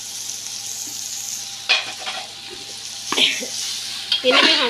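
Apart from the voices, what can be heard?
vegetables (carrot, capsicum, cabbage) stir-frying in a pan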